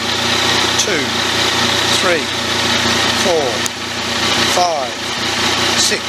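A Yamaha MT-09 Tracer motorcycle engine idles steadily while a cruise control is calibrated, with small throttle blips lifting the revs in short rising sweeps; a voice counts aloud over the engine.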